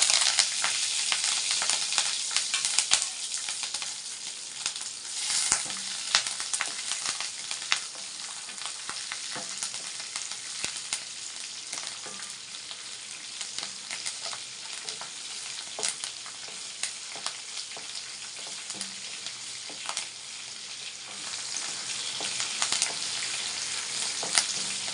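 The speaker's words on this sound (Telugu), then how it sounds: "అందులో ఆవాలు, కొంచెం జీలకర్ర, కట్ చేసుకున్న పచ్చిమిరపకాయలు, కరివేపాకు మొత్తం వేసి ఫ్రై చేసుకుందాం." Mustard seeds, cumin, chopped green chillies and curry leaves fry in hot oil with a steady, bright sizzle and crackle that goes on throughout, close up and fairly soft, with no talking.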